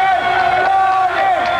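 A crowd cheers and shouts loudly outside a courtroom for mob boss John Gotti as he leaves a free man, a dense steady roar of many voices with rising yells throughout.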